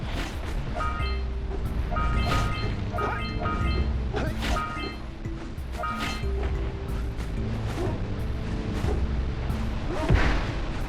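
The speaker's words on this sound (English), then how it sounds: "I could stand by these boxes and let the cannon blow them up, but let's do it ourselves" Booming cannon blasts and crashing boxes in the Jak and Daxter video game repeat in a steady series of sharp impacts over looping game music, with a louder hit near the end.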